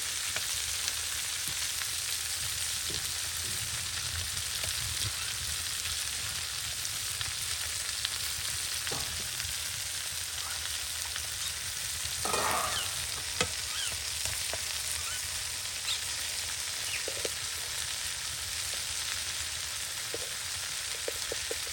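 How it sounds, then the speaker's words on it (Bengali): Water spinach (kalmi shak) fries in a pan over sautéed onion, garlic and chili, giving a steady, soft sizzle with occasional stirring scrapes and no talk. "শাক দেওয়া হইতে আছে কলমি শাক"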